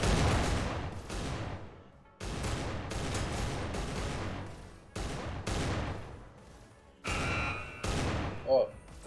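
Repeated sharp gunshots from sniper rifles in an esports shooter match, several loud cracks each trailing off into echo, spread across the stretch amid game noise and faint beeps.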